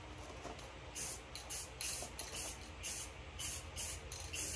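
Short bursts from a rattle can of camo khaki spray paint hiss across an AR-15 in light coats, roughly ten quick pulses in a row, fairly close and quiet, with no talking.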